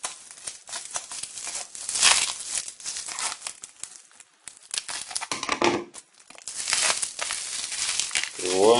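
A sealed plastic packaging bag holding LED bulbs is opened by hand, giving loud, close crinkling and tearing that runs nearly continuously, with brief pauses.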